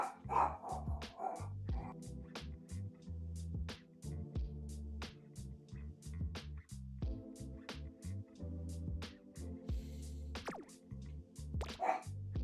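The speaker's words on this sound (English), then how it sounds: "I got a dog barking in the background." A dog barks somewhere in the background, with faint repeated barks and yips under steady musical game audio.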